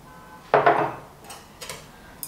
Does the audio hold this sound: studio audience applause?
no